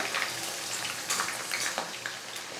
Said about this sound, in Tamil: சிக்கனை வந்து பார்த்தீங்கன்னா எண்ணெயில் போட்டு இப்போது பொறிச்சு எடுத்துக்கலாம்